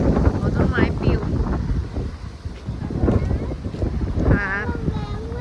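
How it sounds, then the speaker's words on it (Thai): Strong wind gusts rush through trees outdoors, a continuous loud roaring hiss that rises and falls, with people talking over it. "มันมีลมพัด ต้นไม้ โอ้โหลมแรงมาก"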